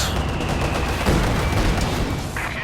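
KV-1 tank cannon firing in Company of Heroes 2, a loud close boom amid dense battle noise with other gunfire and explosions continuing throughout.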